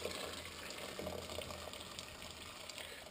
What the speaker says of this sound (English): Take your fresh boiled water.